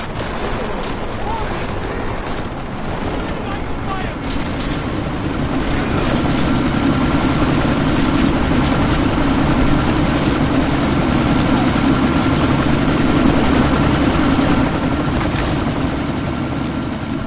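A helicopter idles loudly with a heavy, continuous rotor throb in the action game Deus Ex: Mankind Divided, building slightly in intensity over a long stretch, with scattered sharp bangs and voices mixed in.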